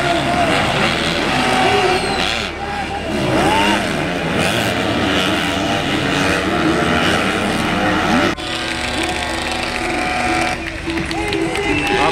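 250cc international-class supercross motorbikes race at the CEAT Indian Supercross Racing League, several engines revving and whining loudly and continuously as they rise and fall in pitch, with a voice talking over them.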